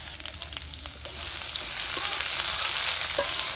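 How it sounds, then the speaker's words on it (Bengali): Okra dropped into hot mustard oil in a wok sizzles and crackles steadily, the frying noise building and filling out over a few seconds, close up with no voices. "আমি এবারে ভেন্ডিগুলো দিয়ে দিচ্ছি।"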